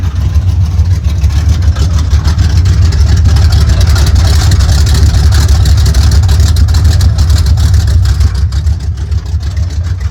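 A 1972 Chevrolet C10 pickup's engine rumbles loudly and steadily from the exhaust at the rear, a deep continuous drone with a slightly uneven pulsing throb, heard up close.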